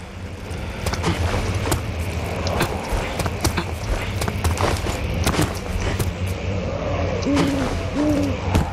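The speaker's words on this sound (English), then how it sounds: "No, you owl, shut up!" An owl hoots in the dark horror game Amnesia: The Dark Descent, a pair of short low hoots near the end over a steady rumbling ambient drone with scattered clicks and creaks.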